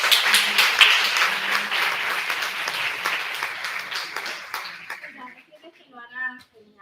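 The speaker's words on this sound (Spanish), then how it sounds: "Así que un aplauso por lo valiente que es." Audience applause at a nursing conference session, steady clapping from a crowd for about five seconds that fades out, followed by a voice starting to speak.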